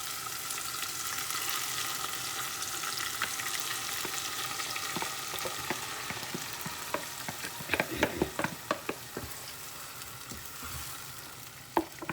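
Peppers frying in a pan for Nigerian ofada stew, a loud continuous sizzle heard close, with a run of quick spoon taps and clatters against the pan near the end.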